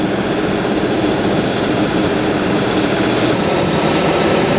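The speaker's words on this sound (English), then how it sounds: "gigantic diesel engines that are making electricity" Loud, constant roar from the diesel power car engines generating electricity on a Grand Canyon Railway train, a broad dense drone heard close with a slight shift in tone near the end.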